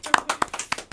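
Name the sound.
applause for Mbak Niam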